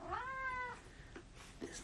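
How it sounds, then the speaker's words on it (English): A cat meows once, a clear drawn-out cry close by in a quiet room, followed by faint shuffling and a short chirp-like sound. "My cat would like to be a part of this."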